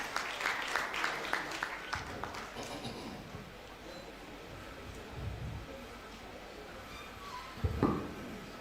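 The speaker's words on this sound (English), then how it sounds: "A round of applause for him as he comes forward" An audience at a university convocation ceremony gives a brief round of applause that is fairly faint and fades within a few seconds, leaving low room noise with a few scattered knocks.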